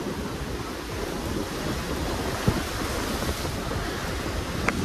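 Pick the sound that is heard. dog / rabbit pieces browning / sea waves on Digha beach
sea waves on Digha beach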